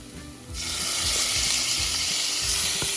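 Scallops go into a hot pan for an Indian-style fry: a quiet start, then a sudden loud, steady sizzle, with low rhythmic scraping underneath.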